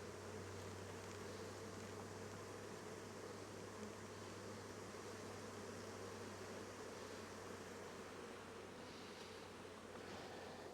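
A swarm of honeybees hums in a dense, steady drone outdoors, continuous and moderately distant, with no voices.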